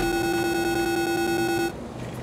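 A security alarm at a bag check gives a steady, loud electronic beep tone that holds for about a second and a half and then cuts off, leaving a quieter room hum.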